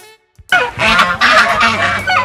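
Domestic geese on a village farm honk loudly and close by, a burst of overlapping calls that starts abruptly after a short quiet and keeps going, with no talk.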